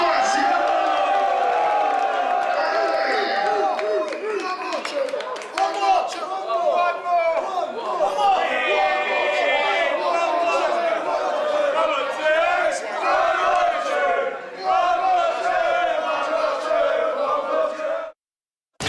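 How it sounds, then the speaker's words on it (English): Crowd at a drum and bass event cheering, whooping and shouting loudly and continuously, a dense wall of voices with an MC talking over it, ending abruptly. "Somebody make some noise for Rugby so fancy"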